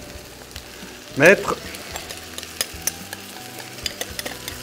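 Chicken being stirred in a frying pan for sweet and sour chicken, quiet sizzling with scraping stir strokes and small clicks, a short burst of speech early on.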